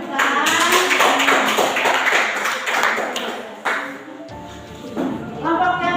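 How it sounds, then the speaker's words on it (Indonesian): Students in a classroom applaud after a group presentation, a busy, close clatter of many hands that fades out, followed by murmuring voices. "Oke, kita tepuk tangan."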